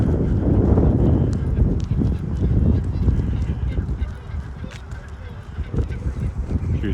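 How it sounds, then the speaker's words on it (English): Geese honk repeatedly around Wascana Lake in Regina on a late-March day, a flock calling from some distance in a continuous ragged chorus, with faint voices nearby. "Hear the geese."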